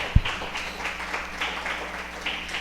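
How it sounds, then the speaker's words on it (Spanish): Congregation applauding during a Spanish-language church service, a steady soft wash of clapping with one sharp near thump at the start. "Denle un fuerte aplauso a nuestro Dios."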